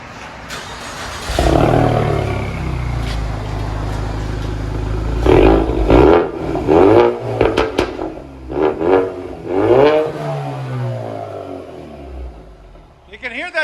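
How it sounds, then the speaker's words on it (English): 2017 Ford Mustang EcoBoost turbo with a Borla ATAK dual exhaust, revving in several rising and falling bursts, loud and close, with someone talking over the engine in places. "You can hear that turbo breathe"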